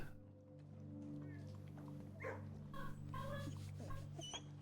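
A dog in the video game Blue Prince gives a few short yips and barks over steady low background music, fairly faint, with a voice audible in places.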